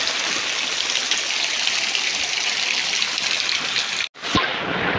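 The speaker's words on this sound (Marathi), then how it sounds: "पाऊस बघा, आत्ता निघालो आणि पाऊस आलाय बघा जास्त" Heavy rain pours down in a village, making a dense, steady hiss that cuts out abruptly near the end before resuming.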